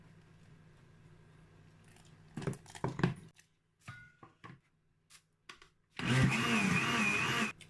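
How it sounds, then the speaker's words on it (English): Blender grinding soaked beans for akara batter, starting with a few short stop-start pulses and then running in a loud, steady whirring burst near the end. "And when you're blending, make sure you don't leave it longer the same way you're blending tomatoes, because this is beans."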